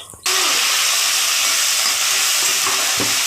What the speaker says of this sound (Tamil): கடுகு பொரிஞ்ச பிறகு பச்சை மிளகாயை போட்டு வதக்கி எடுத்துக்கோங்க